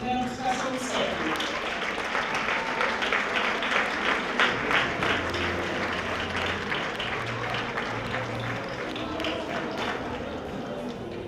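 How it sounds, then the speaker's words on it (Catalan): A crowd gives sustained, steady applause for two women textile workers at a tribute event in Taradell, with dense clapping that holds for about eleven seconds and faint voices mixed in. "us demanaré que rebem un aplaudiment a la Rosa Molís Clavera i la Maria Àngels Villegas Socarrats"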